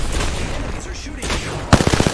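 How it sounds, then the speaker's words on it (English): Enemy gunfire in Apex Legends: a hissing, noisy stretch of combat ends in a rapid burst of loud automatic shots crackling in quick succession. "Enemies are shooting."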